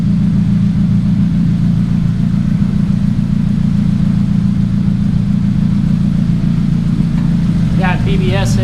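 A 2006 Chevrolet Cobalt SS fitted with a new exhaust runs steadily with a loud, continuous low rumble, holding a near idle the whole time with no pauses.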